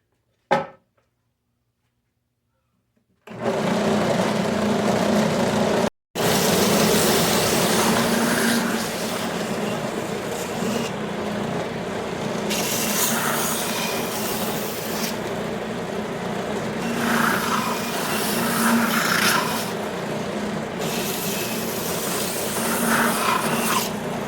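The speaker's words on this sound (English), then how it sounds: "I'm going to take all the corners and round them over on my belt sander here." A belt sander rounds over the corners of small wooden pieces, starting after a short silence with a loud continuous rasping whir, briefly interrupted, then steady grinding with swelling and easing pressure as the wood is worked close up.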